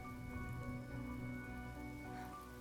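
Steady rain falling in Honkai Star Rail, a dense, even patter on surfaces under a faint sustained tonal hum, constant and moderately quiet throughout with no voices.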